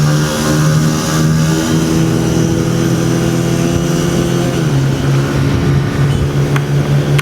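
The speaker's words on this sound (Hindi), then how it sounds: "पहले थोड़ा सा बाइक ज़रा चेक कर लूँ मैं इसके साथ भगा के" A Honda CG 125 motorcycle engine revs loudly and steadily through a test ride, its pitch dropping and shifting about two-thirds of the way through as the throttle changes, with no talking.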